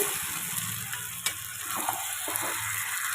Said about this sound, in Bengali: মাছগুলোকে ভালো করে কষিয়ে নেবে